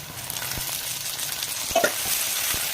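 Washed chicken pieces go into a pan of frying curry leaves for chicken curry, sending up a steady hiss of oil with a few soft clinks and stirring scrapes.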